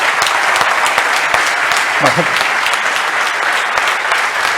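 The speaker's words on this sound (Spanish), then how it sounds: "Un aplauso para ellos." An audience applauds the speakers at a corporate talk on military intelligence, a steady, dense clapping filling the room for several seconds while a voice speaks briefly over it.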